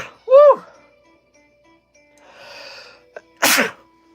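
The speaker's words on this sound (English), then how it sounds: "Boy, I gotta sneeze, man." A man lets out a loud sneeze with a sharp inhaled catch before it, then a soft breathy exhale and a faint click, in a quiet room.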